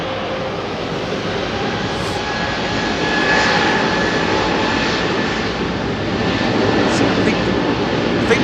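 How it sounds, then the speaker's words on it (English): A British Airways A320neo-family jet with LEAP engines passes at Heathrow Airport, a loud, steady broadband engine roar swelling slightly midway, with faint voices underneath. "I think that's a LEAP powered aircraft"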